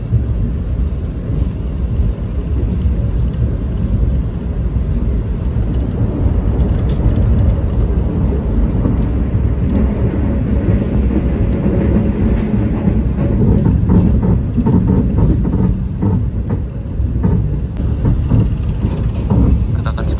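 Heard from inside the Taksaka passenger train from Jakarta to Jogja at speed, a loud, steady low rumble of wheels and carriage with rhythmic rail clatter, continuous throughout.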